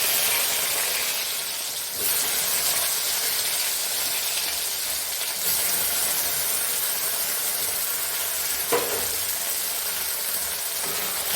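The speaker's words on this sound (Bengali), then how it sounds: "নুন হলুদ মাখিয়ে নিয়ে এবার তেলে ভেজে নেব।" Taro pieces coated with salt and turmeric fry in hot oil left from frying fish, giving a steady, even hiss that runs throughout at moderate level, with a couple of brief clicks and no voices.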